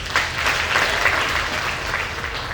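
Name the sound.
audience round of applause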